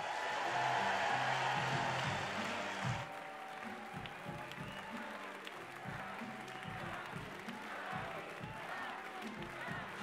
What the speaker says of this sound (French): Un tonnerre d'applaudissements pour Yannick Jadot.